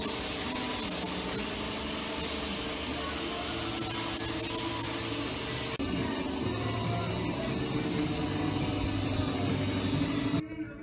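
Guide coat sprays in a continuous hissing burst over a car hood during bodywork, close and steady, then drops to a softer hiss before cutting off near the end.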